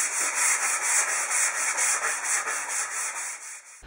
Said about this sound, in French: Encore et toujours du ponçage.